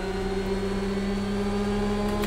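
A trailing car's engine in the racing game Project CARS 2 drones steadily and close for a couple of seconds, a constant tonal hum with no speech over it.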